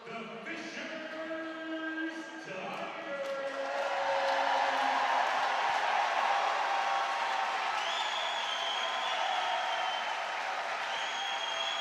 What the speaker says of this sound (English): Hear the roar of the crowd for the Fishers Tigers